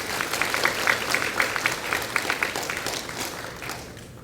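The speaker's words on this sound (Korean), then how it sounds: "큰 박수를 한번 부탁드리겠습니다" Indoor crowd applause at a Gwangju citizens' future-dialogue event, steady dense clapping from a large audience that holds for several seconds before gradually thinning and fading.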